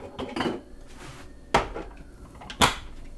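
A plastic blender lid is picked up and set onto the jar in a home kitchen, with a few light clattering knocks and a sharp clack as it seats, close and alone.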